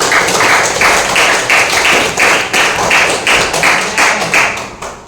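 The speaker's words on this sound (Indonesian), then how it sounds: "Mau begitu beri tepuk tangan untuk kita semua." A class of students applauding together, a loud, continuous patter of many hands clapping in a classroom, with the rhythm pulsing in small waves before trailing off at the end.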